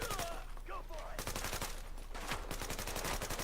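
Rapid gunfire in The Division video game, quick sharp shots in close succession over steady game background noise, with a voice briefly speaking.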